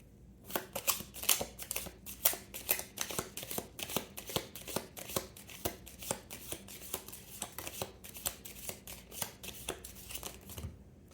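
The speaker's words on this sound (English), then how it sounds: "let's just do one more shuffle here." Rapid riffling of a deck of cards being shuffled, many crisp bursts in a quick irregular rhythm, close and fairly quiet.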